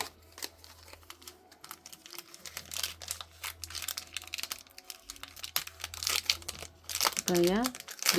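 A Disney Lorcana Archazia's Island booster pack wrapper is torn and crinkled open up close, sharp crackling bursts of foil with a brief voice near the end.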